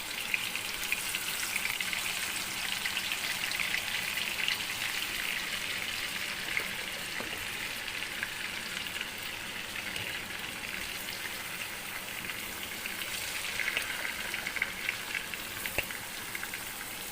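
Chicken pieces sizzle steadily in a wide open pot of hot oil over a low flame, a continuous loud crackling fry that runs without pause, with no talk.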